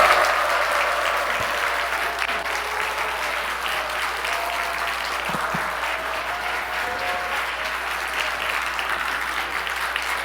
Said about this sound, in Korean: 같이 한번 큰 박수로 목사님 축복하고